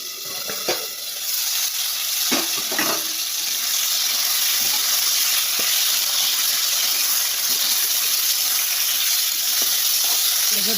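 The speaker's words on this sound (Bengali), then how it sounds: "আমি আগে আলুটা আর মূলাটা একটু ভেজে নিলাম" Potatoes and radish fry in hot oil in a pan, a loud steady sizzle that runs throughout with a few stirring scrapes and clinks near the start.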